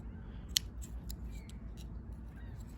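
Scissors snip Norway maple branches while a potted tree is pruned, one sharp crisp cut standing out among a few fainter clicks over a quiet, low background hum.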